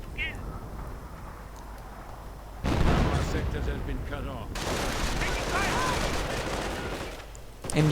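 An MG42 machine gun and artillery fire in a WWII strategy video game: dense rattling bursts and booming blasts come in loud waves, while a caster talks continuously over the battle.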